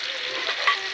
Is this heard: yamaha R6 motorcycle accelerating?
no